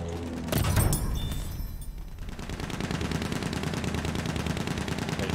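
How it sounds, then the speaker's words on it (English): Rapid machine gun fire in a World War II style combat video game, a steady sustained burst of dense rattling shots running through most of the stretch after an opening blast, loud and close with no talk. "Machine gun right there!"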